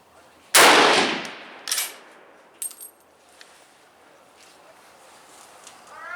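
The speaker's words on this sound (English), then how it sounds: "that was 5 shots and looks like a nice little cluster" Swiss K-31 rifle firing during load development: one loud, sharp close report with a long decaying echo, then a few fainter cracks and clicks, outdoors at a shooting range.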